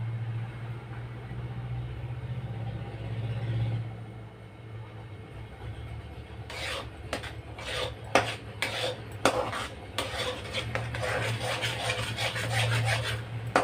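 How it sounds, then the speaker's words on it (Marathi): Thick khoa being stirred and scraped in a pan for Jalna-style mava peda, a low steady hum at first, then repeated rasping strokes of a spoon against the pan, close and rhythmic. "तसा कलर येईपर्यंत आपल्याला हा खवा घोटतच राहायचा आहे"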